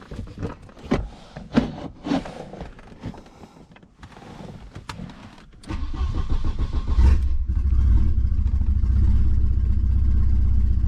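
A turbocharged station wagon on high boost cranks with a few clicks and thumps, then its engine catches and settles into a loud, steady idle close by.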